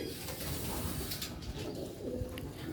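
A Sialkoti pigeon coos in soft, low, repeated phrases nearby, with light background rustle and no talking.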